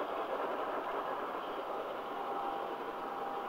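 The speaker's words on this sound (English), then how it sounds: "There are six trains on this layout" Several model trains run on separate loops across a large holiday layout, producing a steady, continuous mechanical whir and rumble that stays even throughout, with no talking.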